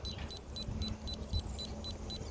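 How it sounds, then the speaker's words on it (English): Short high electronic beeps repeat at a steady rapid rhythm over a low background hum, faint and close by. "It's beeping."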